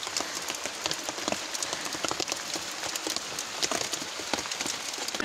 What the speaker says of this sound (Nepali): अब पानी परिरहेको छ